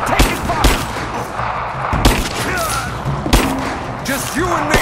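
Gunfire in Rise of the Tomb Raider: repeated booming shots and thuds from the game, close and loud, mixed with other game noise and speech.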